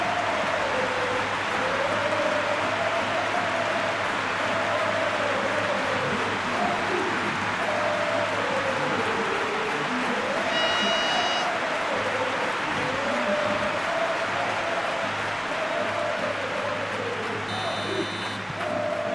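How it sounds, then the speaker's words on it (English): Stadium crowd in a football video game simulating Real Madrid vs Arsenal in a Champions League quarter-final, a steady roar of applause and chanting with a rising and falling sung chant, continuous and fairly loud, with brief electronic tones near the end. "The crowd are calling for this to be put to bed."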